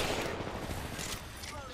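Rapid gunfire in the battle royale game Apex Legends, a quick burst of shots heard fairly faint and distant under game noise.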